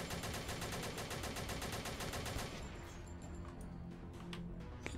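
Gunshots in a video game ring out as a dense, steady run of rapid shots for the first half, then thin into scattered clatter and softer effects, fairly close and continuous with no talk.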